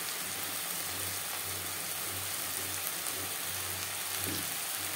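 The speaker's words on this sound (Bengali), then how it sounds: "আদা বাটা, কাঁচা লঙ্কা বাটা। মশলার কাঁচা গন্ধ যাওয়া পর্যন্ত নাড়াচাড়া করে নেব।" Ginger and green chili paste frying in a pan, a steady dense sizzle throughout with faint stirring, and a low repeating hum beneath it, no talking.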